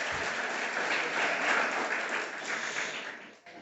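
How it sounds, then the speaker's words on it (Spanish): A church congregation applauds together in a steady wash of clapping that swells slightly midway and fades toward the end, with no voices over it. "Un fuerte aplauso para el Señor."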